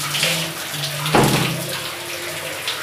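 Water runs steadily from a tap or shower while hair mask is rinsed out of hair, a close, continuous splashing rush with no voices.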